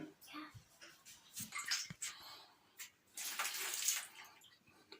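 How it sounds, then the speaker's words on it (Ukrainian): Water running from a bathtub tap into a jar for pickling tomatoes, heard as uneven bursts of splashing and gushing, with soft voices of an adult and a child between. "йдемо в ванну наливати в помідори води"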